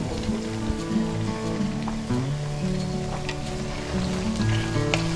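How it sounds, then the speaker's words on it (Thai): Pork pieces deep-frying in reused hot oil over medium heat, giving a steady, dense crackling sizzle like rain on a surface, close and continuous throughout with no talking. "แล้วก็นำหมูลงทอดค่ะ"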